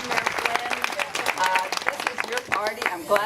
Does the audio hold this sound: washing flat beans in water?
no